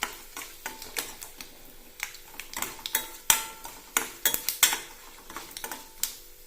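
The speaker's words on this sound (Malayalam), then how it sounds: "എന്നിട്ടൊന്ന് ഇളക്കി കൊടുക്കാം" Mustard seeds crackle and pop in a hot pan with asafoetida. The pops are sharp and irregular and closely spaced, with a spoon clinking against the metal now and then.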